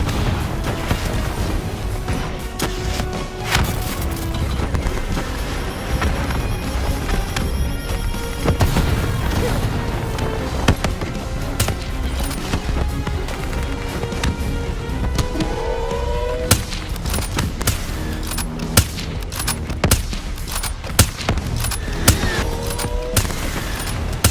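Dense gunfire from Call of Duty: Black Ops III crackles in rapid bursts and sharp single shots, with heavy impacts and booms layered through a loud, continuous battle.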